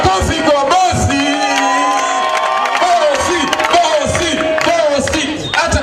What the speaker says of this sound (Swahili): Makofi kwa bosi